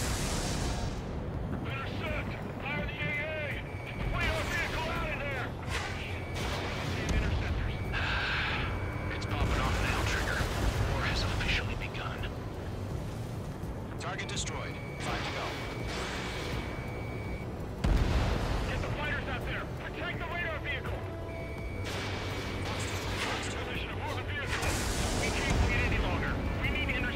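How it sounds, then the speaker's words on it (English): Anti-aircraft guns fire in Ace Combat 7, with repeated rumbling bursts and booms spread across a long stretch alongside steady engine drone, while voices talk over the action. "Fire the AA!"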